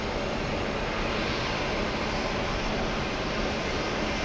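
JetBlue flight 1002, arriving at JFK from Fort Lauderdale, gives off a steady, even jet engine rush and hiss, heard alone without talk.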